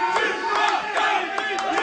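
A StarCraft 2 WCS European Premier League esports crowd keeps up continuous cheering and chanting, a thick steady roar with periodic sharper bursts of shouts.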